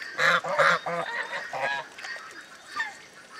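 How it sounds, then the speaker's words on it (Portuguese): Geese honking at a pond, several loud nasal calls in a quick cluster near the start, then scattered fainter honks from the flock with other waterfowl such as ducks around. "Não é pato, é... Ganso?"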